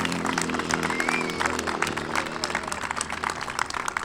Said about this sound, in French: Messieurs, dames, on va faire un tonnerre d'applaudissements.